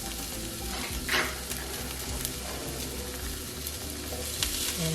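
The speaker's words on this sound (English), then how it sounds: "Add our zucchini in the saucepan." Zucchini sizzles in a saucepan for a kids' veggie pasta, a steady close frying hiss with occasional stirring scrapes, no one speaking.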